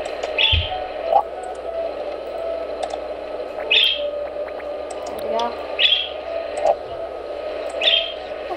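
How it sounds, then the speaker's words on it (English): Birds outside a house give short, repeated high chirps at regular intervals, fairly faint behind a steady hum and muffled talk. "Why are there like always birds outside your house?"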